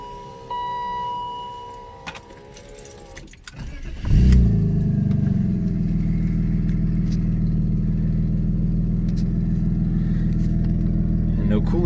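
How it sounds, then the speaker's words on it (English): BMW E36 project car with a new exhaust: a brief high whine and faint clicks, then the engine catches with a sudden burst and settles into a loud, deep, steady droning idle close by. "listen to the new exhaust real quick"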